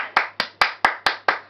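Hands clapping seven times in a steady, even rhythm, each clap sharp and close with a short decay, alone without talk over it.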